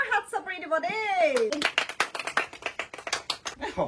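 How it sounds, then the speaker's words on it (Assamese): An audience bursts into a round of clapping at an Assamese Bihu dance contest for young wives, after a short stretch of talk, with dense, uneven claps close by that rise and fade over a few seconds. "ৰাইজসকল এটা ডাঙৰ হাত চাপৰি দিব দেই"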